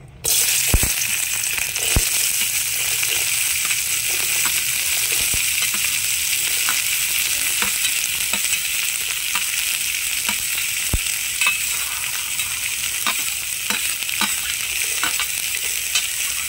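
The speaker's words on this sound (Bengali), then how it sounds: "এবার আমি সমস্ত সবজিগুলো দিয়ে দিচ্ছি একে একে" Vegetables fry in a wok with only a little sunflower oil for a light diet dish, giving a steady loud sizzle throughout with occasional sharp clicks and scrapes of stirring.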